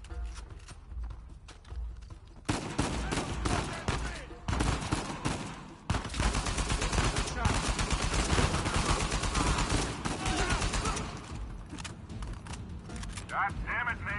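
Gunfire in the video game Uncharted 4: A Thief's End fills most of the stretch as dense, rapid volleys and crackling bursts, loud and sustained, with a voice talking over the shooting.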